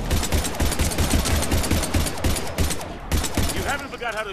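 Dense, continuous automatic gunfire from the video game Mass Effect 3, rapid bursts rattling close and loud for several seconds, with voices faintly underneath.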